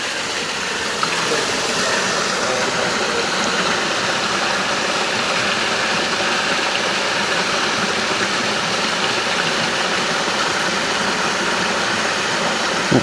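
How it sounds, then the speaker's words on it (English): A loud, steady roar of rushing water from a riverside waterfall fills the scene, constant and broadband with no pauses, like standing close to it. "That's your waterfall."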